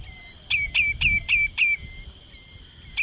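Migratory birds calling at the Sungei Buloh wetland reserve in Singapore: a series of five quick, high, sharp chirps in a steady rhythm, then a pause and one more call, fairly close over a quiet background.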